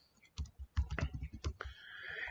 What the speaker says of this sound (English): I can try typing in DOUBLE